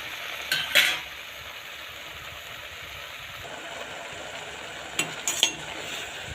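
Kovai leaf greens being stir-fried in a clay pot, with a steady soft sizzle and a few brief scraping stirs near the start and again toward the end; no talking.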